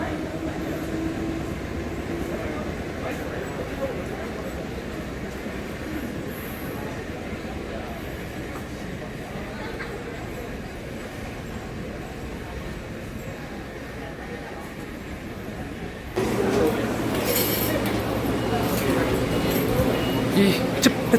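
Steady rumbling of a commuter train in motion in Japan, with a louder surge of rattling near the end and voices murmuring underneath.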